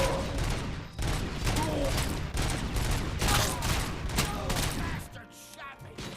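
Dense, sustained bursts of gunfire from the RoboCop video game, rapid overlapping shots filling most of the stretch at close range before thinning out near the end.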